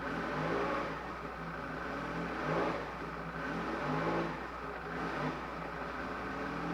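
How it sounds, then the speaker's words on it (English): A Porsche GT1 race car engine revs in steady surges, rising and falling roughly every second or so, loud and close with a rough, buzzing drone throughout. "I wanted to rev it up and turn it off"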